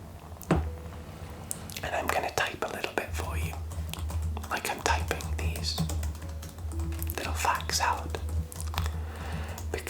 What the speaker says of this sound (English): one of my favorite triggers is typing and keyboard typing